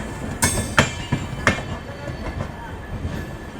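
An Amrit Bharat Express train at Sealdah station gives a few loud, sharp metallic clanks and knocks over a steady low rumble, with fainter clicks trailing off toward the end.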